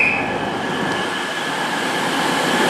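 A Cross-country Voyager train departing Plymouth station, a loud, sustained engine roar and rumble close by with a high whine running through it.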